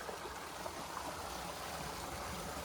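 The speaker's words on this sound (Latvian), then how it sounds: "Tā tad rekur ir slavenais ūdenskritums." Steady rushing water from a waterfall, a soft continuous wash of falling water heard faintly and evenly throughout.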